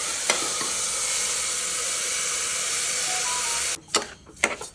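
Rice stirred into hot ghee with cloves and cinnamon in a pan gives a steady close sizzle, then breaks into a few sharp scraping clatters near the end.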